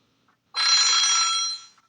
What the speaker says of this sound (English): Suddenly the phone rang.